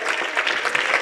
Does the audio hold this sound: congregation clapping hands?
yes